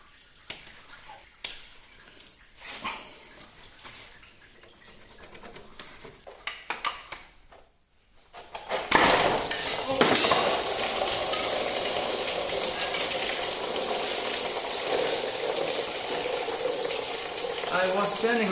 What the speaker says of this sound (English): Draining the coolant.